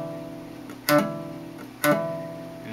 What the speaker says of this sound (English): you're gonna hammer your finger down on the following note.